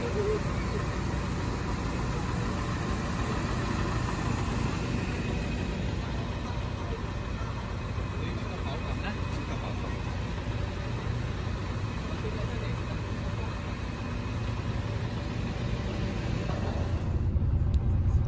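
A coach bus engine idles at the Thai immigration post at the Sadao border crossing, a steady low rumble that holds constant throughout with faint background activity.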